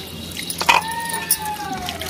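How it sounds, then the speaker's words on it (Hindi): Cold water from the fridge is poured over blanched spinach in a village kitchen, a light splashing trickle with a few drips, close and steady for about two seconds, with no talk. "आप क्या करें कि ठंडा पानी लें फ्रिज का और तुरंत इसके ऊपर डाल दें।"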